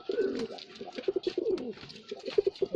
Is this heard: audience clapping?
no